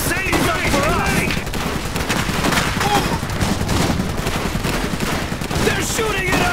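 Battle gunfire in the Iron Harvest strategy game: dense, continuous volleys of rifle and machine-gun shots with rattling bursts, loud throughout, under shouted soldier voices.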